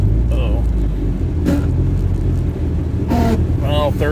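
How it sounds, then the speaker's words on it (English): A 1988 Toyota MR2 AW11 with a manual transmission drives along, its steady engine and road rumble carrying throughout while the driver shifts up from first into second; someone talks over the engine noise. "First gear, clutch. Right into second gear like it was nothing."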